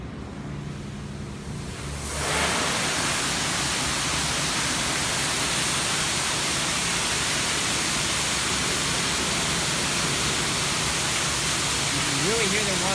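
High-pressure water spray in a touchless car wash in North Bay, Ontario, starting after a quiet two seconds and then roaring as a loud, steady broadband hiss close to the microphone for the rest of the clip.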